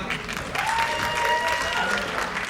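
Audience applause for an executive producer at a Thai series finale event, a crowd clapping steadily with some tonal sounds and possible voices mixed in, close and full for a couple of seconds.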